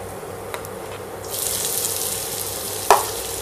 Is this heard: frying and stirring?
yes